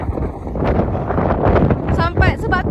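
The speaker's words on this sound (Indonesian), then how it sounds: "Lepas tu angin kuat, angin kuat." Strong wind at a wind farm in Jordan buffets the microphone with a loud, continuous roaring rush, and a voice comes through faintly amid the gusts.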